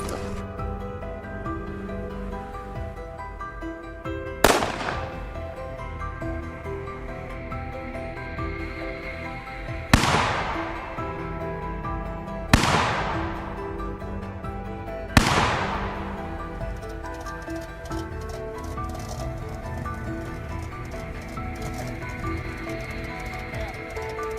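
Four sharp rifle cracks ring out during a wild boar hunt, spaced several seconds apart over a low background rumble, each with a brief decaying tail.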